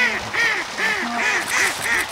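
Ducks on the Choptank River quacking in a loud, rhythmic series of about six calls, close by and clear, with no talk over them.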